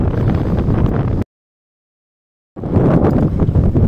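Strong headwind buffets the microphone while cycling, a loud, steady roar of wind noise that cuts out completely for over a second before rushing back just as hard.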